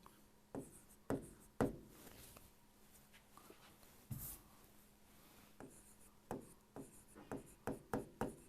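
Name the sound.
writing on paper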